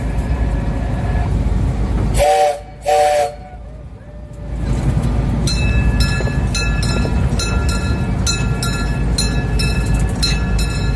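A tourist train through a cactus park near Superstition Mountain sounds two loud whistle blasts over a constant rumbling hiss, then the clatter and rattling of the cars as it rolls on steadily.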